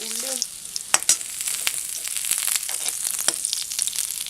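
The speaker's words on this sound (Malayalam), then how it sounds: "1 ഉള്ളി വട്ടത്തിലരിഞ്ഞത്, 1 വറ്റൽമുളക്, കുറച്ച് കറിവേപ്പില, ഇതെല്ലാം കൂടി ഇട്ടിട്ട് ഒന്ന് മൂത്ത് വരണം." Sliced onion, a dried red chilli and curry leaves frying in hot oil for papaya thoran, a steady close sizzle with scattered crackles and pops, plus a brief stir at the start.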